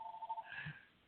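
A mobile phone sitting next to a computer rings with an incoming call, a short, faint, tinny electronic tone heard alone.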